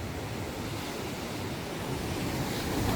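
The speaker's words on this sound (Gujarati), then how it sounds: "આ છે લાઇટ હાઉસ અને પાણી ખાલી આ જો દરિયો આખો બધો દરિયો" Sea waves wash ashore beside a lighthouse at nightfall, a dense continuous roar of surf mixed with gusty wind buffeting the microphone, swelling slightly louder toward the end.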